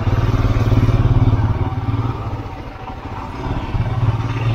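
A motorcycle engine runs at low revs on the road to Pelling Skywalk in Sikkim, a loud close throbbing putter that dips slightly midway and then swells again, with no talking.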